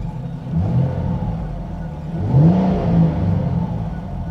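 A Mustang convertible engine idles at a low rumble, then revs up briefly and settles back down, close and fairly loud.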